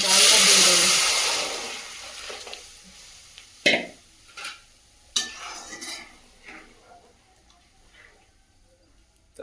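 Dal tipped into a pan of fried panch phoron spices gives a loud hissing sizzle at first that fades over a few seconds, then a run of sharp spoon and pot clinks close by.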